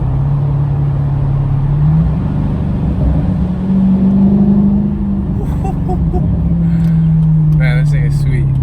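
From inside the car, a Mercedes C55 AMG with a custom exhaust drones steadily, and its pitch climbs and drops as it revs and shifts down. Faint chatter and clicks come in near the end.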